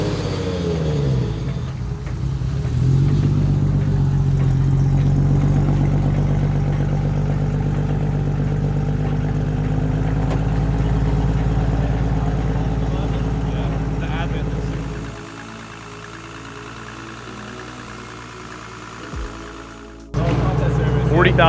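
Nissan Skyline R34 with a 2.8 liter RB28 engine revving up and holding a loud, steady drone, then dropping off near the end, with people talking over it.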